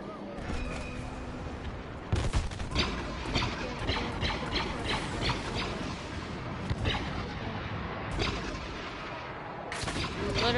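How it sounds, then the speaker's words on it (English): Y-wing airstrike in the Star Wars Battlefront video game: dense, continuous rumbling explosions and gunfire blasts fill the whole stretch, with heavier booms standing out now and then in a loud battle mix. "Y-wing targeting systems locked. Airstrike incoming."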